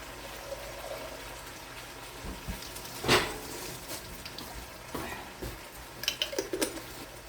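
Water pouring into a kettle in a home kitchen, a faint splashing trickle with a brief louder gush and scattered small clinks.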